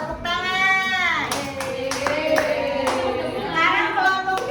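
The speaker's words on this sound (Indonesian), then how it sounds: "Tepuk tangan." Children in a primary classroom clap their hands together in a short burst of group applause, mixed with young voices calling out and chattering close by.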